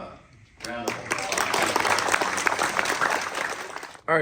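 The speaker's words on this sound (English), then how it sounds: "let's give them a round of applause" Graduation audience applauds, a broad wash of clapping that swells up and holds steady before cutting off, with a speaker's voice heard briefly at the start.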